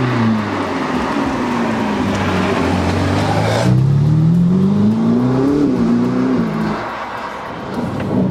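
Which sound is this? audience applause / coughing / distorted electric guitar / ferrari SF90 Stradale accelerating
ferrari SF90 Stradale accelerating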